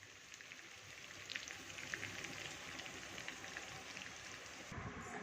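Ginger and green chillies fry in oil for lemon rice, producing a faint, steady crackling sizzle with small pops scattered throughout and no speech.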